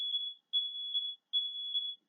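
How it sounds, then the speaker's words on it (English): A smoke alarm sounds with three shrill, high-pitched beeps of roughly half a second each, evenly spaced, steady and piercing with nothing else audible. "oh, my smoke alarm's going off."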